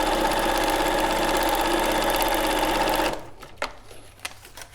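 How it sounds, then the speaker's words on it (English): Sewing machine stitching fabric for paper piecing under the presser foot, a steady loud close mechanical whir for about three seconds that stops abruptly, followed by a few soft handling taps. "So again, under the presser foot, start sewing before the line."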